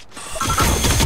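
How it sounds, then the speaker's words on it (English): A gun reloading in a video game: a single quick, close mechanical clatter of sliding and ratcheting metal parts lasting about a second. "Loading gun."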